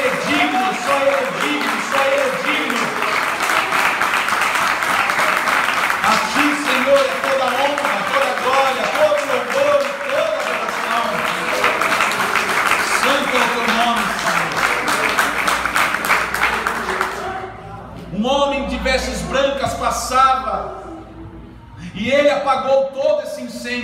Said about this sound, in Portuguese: Aplauda o Senhor com força